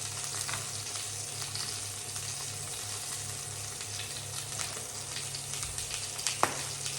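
Black pudding and sausages frying in a pan for a full English breakfast, a steady close sizzle and crackle with faint stirring sounds and a low background hum, no talking.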